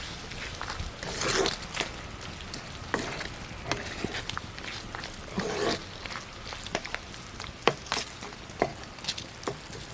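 Lemon pickle with sugar is stirred in a pot, giving continuous wet scraping and clattering strokes against the metal, close and moderately loud throughout.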